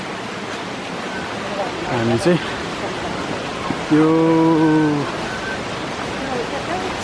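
Rushing water from Sundarijal waterfall during monsoon makes a broad, constant roar throughout, with people talking briefly over it.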